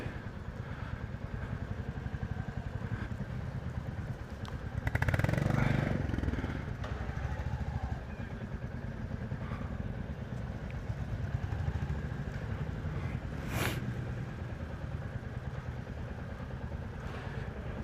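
Royal Enfield Bullet 350 motorcycles ride back in after a group ride at an Australian launch event, a steady low engine rumble that swells briefly near the one-third mark, then settles into a constant drone.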